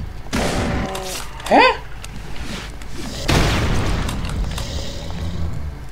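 Double-barrel shotgun blasts in the Brutal Doom game, with a booming shot near the start, a sharp burst around the middle and another heavy boom after, while someone talks and exclaims over the gunfire.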